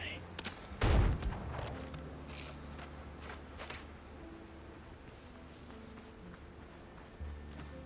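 Gunfire in the pirate video game Windrose: one loud, close shot near the start, then lighter clicks and footsteps over a low, steady ambient bed.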